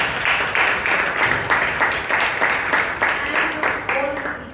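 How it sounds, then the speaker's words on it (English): An audience at a Toastmasters club meeting in Bangalore gives a round of applause, a dense clatter of many hands in quick rhythmic pulses that carries on steadily throughout. "huge round of applause"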